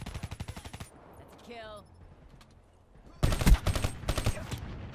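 Rapid automatic gunfire from the Black Ops 3 video game, a close, loud burst of evenly spaced shots at the start, a brief whistling electronic sweep, then a second, heavier volley of overlapping shots near the end.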